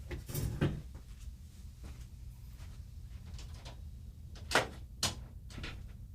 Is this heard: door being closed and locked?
yes